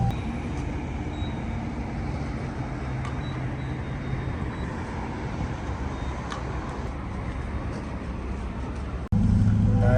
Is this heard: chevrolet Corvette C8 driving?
yes